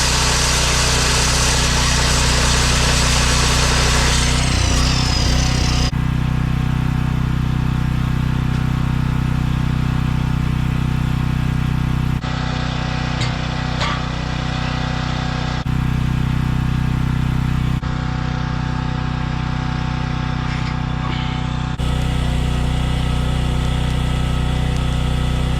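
A gas engine-driven welder runs loud and steady with a constant droning engine note, its level shifting slightly in a few abrupt steps, close by, with no talking.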